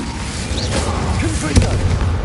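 An Incendio fire spell is cast in the Hogwarts video game, a dull booming whoosh under a dense wash of game noise, with a voice calling out over it.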